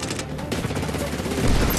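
Gunfire in the video game Medal of Honor: Warfighter, a dense, loud fusillade of rapid shots and automatic bursts that builds toward the end, with a voice faintly under it.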